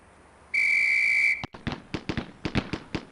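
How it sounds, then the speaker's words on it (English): Police Quest SWAT range training signal: one long, loud, steady whistle tone lasting under a second, followed immediately by a rapid series of sharp gunshot cracks from semi-automatic fire. "On the whistle."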